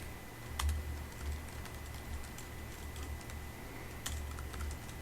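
Typing code on a computer keyboard: soft, scattered key clicks at close range, with a few sharper taps standing out, over a quiet background hum.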